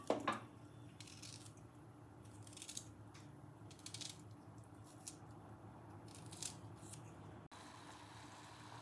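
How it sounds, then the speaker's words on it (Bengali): Knife cutting a small piece of ginger into small pieces on a board, faint sparse crisp chops at irregular intervals over quiet room tone. "এইটুকুনি আদা আমি একটু কেটে কেটে দিচ্ছি।"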